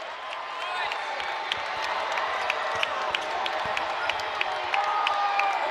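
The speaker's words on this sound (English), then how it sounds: "this very intelligent Western Kentucky crowd sensing the moment" A Western Kentucky basketball home crowd roars and cheers in the arena, a loud sustained wall of voices with scattered whoops and claps.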